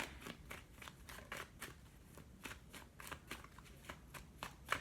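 Tarot cards are riffled and shuffled in quick rhythmic bursts, about two per second, soft and close with no talking.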